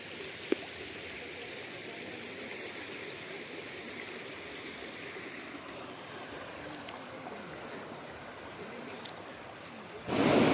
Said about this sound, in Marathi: खूप प्रचंड वेग आहे या पाण्याला